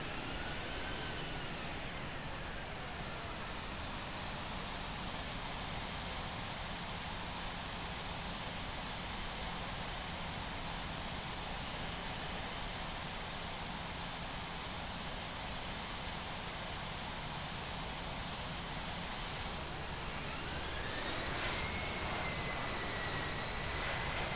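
Airliner on the runway in the Infinite Flight simulator at an Australian airport, a steady loud broadband jet roar held throughout with a rising turbine whine near the end, no voices.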